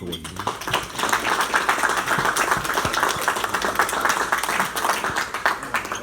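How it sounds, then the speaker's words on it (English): A roomful of Rotary Club members claps in sustained applause as a guest speaker walks up, a steady dense clatter of hands at moderate loudness, with scattered voices mixed in. "So let's give him a round of applause as he comes up."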